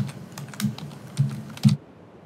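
Someone types a Linux echo command on a computer keyboard. Scattered close, fairly quiet keystrokes include a few sharper taps before the typing stops abruptly.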